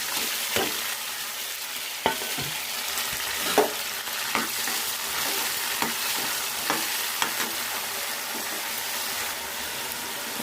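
Carrot, green chillies and tomato frying in a pan for coconut-tomato chutney, a constant close sizzle with repeated scraping stirs spaced every second or so.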